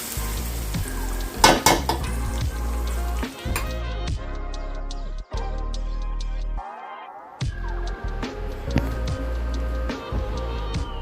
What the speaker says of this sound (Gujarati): તો હવે વઘાર તૈયાર થઈ ગયો છે. હવે આપણે ખમણ ઉપર નાખી દઈશું.